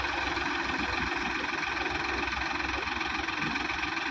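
A Powertrac tractor stuck in mud strains to pull free, its engine running loud and close in a steady, unbroken drone with a rough, knocking pulse.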